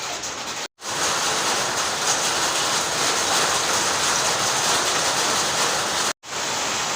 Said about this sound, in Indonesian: Kebetulan di bengkel hujan ya